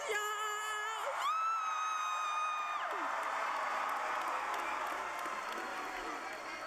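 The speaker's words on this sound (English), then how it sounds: "let's give a big round of applause" A crowd at the Palm Beach Lakes Community High School class of 2019 graduation cheers and applauds in a dense, steady roar, with high whoops and shouts rising above it at the start.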